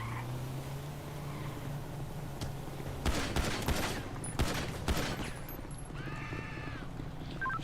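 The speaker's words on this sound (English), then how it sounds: "Shots fired." Gunfire from GTA 5 roleplay gameplay: a couple of sharp broadband bursts, then a dense cluster of rapid shots around the middle, fairly loud over a steady low hum and ambient game sound, followed by a siren-like warble.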